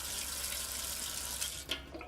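Drinking water runs steadily from a tap or is poured, a continuous hissing splash at a fairly even level with a small splashy surge near the end and no voices.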